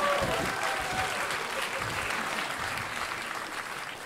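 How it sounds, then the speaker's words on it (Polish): Audience applause at an improv comedy show, steady and full-bodied with the crowd clapping together for about four seconds. "Wielkie brawa dla nich!"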